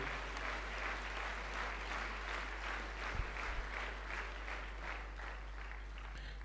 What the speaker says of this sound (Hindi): जोरदार तालियां दोस्तों आपके लिए